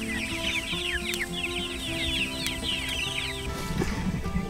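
Several chickens cluck and chatter continuously at moderate distance over a steady low background hum, with no talking.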